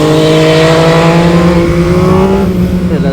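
MV Agusta Brutale 800 motorcycle accelerating hard through the gears, a loud, close engine note climbing steadily in pitch, then dropping briefly at a gear change near the end.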